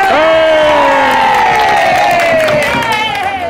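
Supporters at a bingo game at Thermas de Salgadinho cheer and whoop loudly and continuously with no letup, a crowd of voices shouting over one another.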